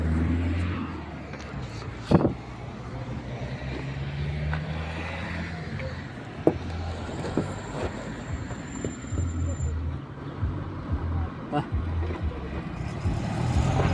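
Cars and trucks pass on a road at midday, with engine hum rising and fading in waves and a couple of sharp knocks, while someone talks over the steady traffic noise.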